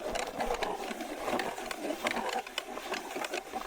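A hand ice auger grinds through slushy ice in a rapid, continuous rhythmic churning scrape, fairly close, with no talking during the drilling.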